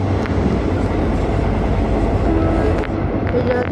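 A Mumbai AC local train runs between Goregaon and Andheri with a steady, loud rumble and faint wheel clatter throughout, heard from on board with no talk.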